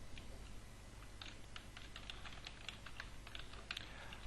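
Fingers type on a computer keyboard in quick, uneven bursts of light clicks, close and fairly quiet, with no voices.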